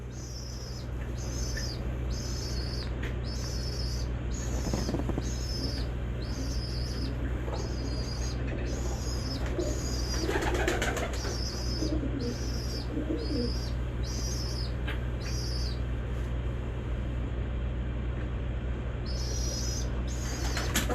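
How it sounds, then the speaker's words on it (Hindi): Pigeons cooing and fluttering their wings in a loft of tail- and crest-bred birds, soft repeated coos and occasional flapping bursts over a steady low hum, with bird chirps throughout. "इस कबूतर की माशाल्लाह बगल भी बहुत बड़ी है"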